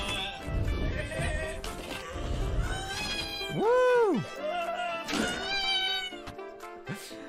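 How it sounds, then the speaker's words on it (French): Goat cries in the video game Goat of Duty, loud warbling bleats rising and falling over busy game sounds, one long arched cry in the middle followed by shorter calls. "Ah, les cris de chèvre. Oh là là, les cris de chèvre."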